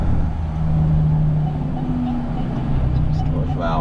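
A blue Volvo NH truck on the road with its engine brake engaged, a steady low engine drone with a droning tonal hum that shifts pitch partway through, loud and close with cab-interior rumble.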